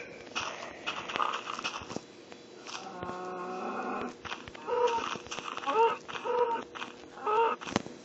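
Several drawn-out cow moos from Minecraft Pocket Edition, tonal and droning, mixed with game clicks and sounds at close range.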